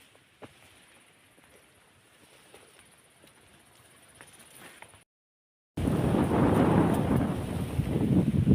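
Strong wind on a mountain, faint and hissing at first, then after a short silence it roars and buffets the microphone loudly.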